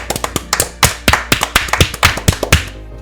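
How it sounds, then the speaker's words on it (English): Separate sharp taps in an irregular, fairly quick sequence, like a few people clapping close by, running about three seconds and clear of any speech. "Before we start off, let's give a round of applause."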